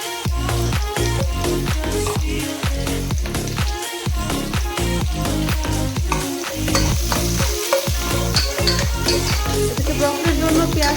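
Chopped onion, garlic and dried red chili fry with panch phoron in hot oil, browning for a broccoli dish; a loud, busy sizzle carries on throughout, broken by steady rhythmic stirring.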